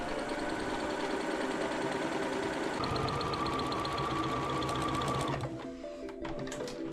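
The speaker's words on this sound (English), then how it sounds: "now we're going to start some sewing activities to join the squares together" A sewing machine stitches quilt squares together in a continuous, close, steady mechanical whir with a rapid needle rhythm, which speeds up slightly partway through and then briefly slows and changes pitch near the end.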